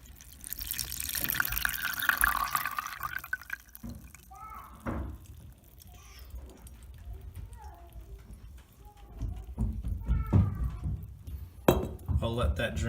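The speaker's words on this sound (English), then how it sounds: "I'm going to pour it through a clean filter." Liquid pigment mixture made from weld trickles and drips through a filter with a few glassy clinks, varying in loudness over several seconds, with a voice speaking briefly between the sounds.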